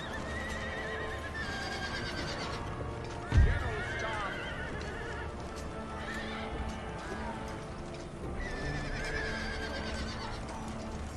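Horses whinny repeatedly in the video game Empire: Total War, fleeing cannons, over a bed of clip-clopping hooves and battle noise, with a sudden heavy thud early on.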